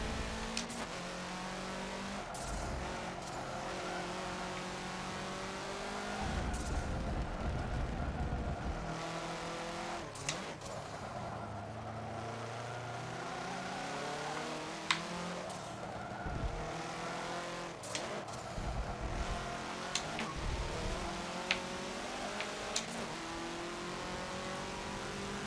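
An Alfa Romeo 33 race car in Forza 7 revs hard through repeated gear shifts, its engine note climbing and dropping with brief tire squeals, loud and continuous from the cockpit.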